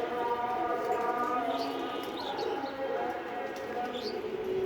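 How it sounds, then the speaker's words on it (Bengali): Silver pigeons, both hens and cocks in cages, coo softly amid a busy loft with scattered chirps, shuffling and steady background noise throughout. "এই যে এইগুলো হলো আমার সিলভার কবুতর।"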